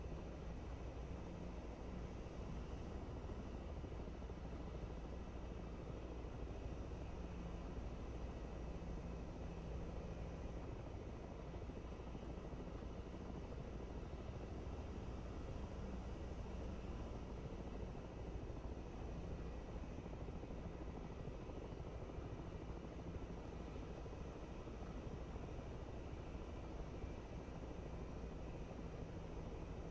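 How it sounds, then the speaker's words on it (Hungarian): A helicopter hovers in front of the Kuznetsov aircraft carrier in the DCS World flight simulator, a steady, unbroken rotor and engine drone that holds at an even level throughout, with no voices. "az a helikopter, ami leveg a hajó előtt."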